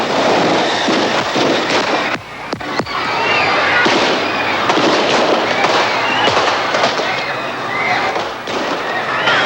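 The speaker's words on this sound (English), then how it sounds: "followed by a hail of gunfire." Rapid gunfire from the 1981 assassination of Anwar Sadat at a military reviewing stand, a dense crackling hail of loud shots with sharp bursts throughout, under crowd noise and commotion.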